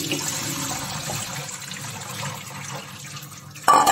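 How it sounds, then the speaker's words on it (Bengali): Running water washes soaked banana flower in a kitchen sink, a steady, fairly loud splashing rush that holds throughout, with a sharper clatter of water at the very end. "এবং ভালো করে ওয়াশ করে নিচ্ছি।"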